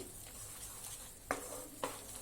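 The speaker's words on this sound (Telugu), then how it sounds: "కోవా ఫ్రై అయిపోయింది కదా, దగ్గర పడిపోయింది." Khova frying in a pan while being stirred, a soft continuous sizzle with two scraping spoon strokes against the metal, close and quiet with no talking.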